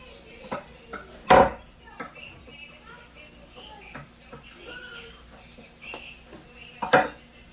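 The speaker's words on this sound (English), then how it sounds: "the pieces of cilantro, let me chop them up a little bit" Knife chopping cilantro on a cutting board in a home kitchen while making bistec a la Mexicana, a few sharp separate knocks with clatter and soft handling sounds between them.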